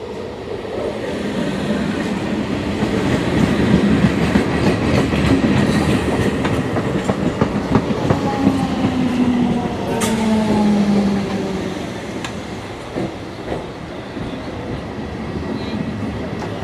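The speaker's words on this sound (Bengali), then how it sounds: "তো দক্ষিণবাড়ি স্টেশনে ট্রেন একটা ঢুকছে" A train rolls into Dakshin Bari station in Howrah district, its heavy rumble and rail clatter steady throughout, with a squealing brake whine sliding down in the middle, nearby and loud.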